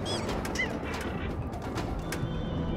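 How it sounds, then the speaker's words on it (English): Pigeon-like birds coo and flutter inside the AtGames Natural History digital pinball table, a few short cooing calls over a steady busy game background at moderate level, with no talk. "Here we got birds flying around."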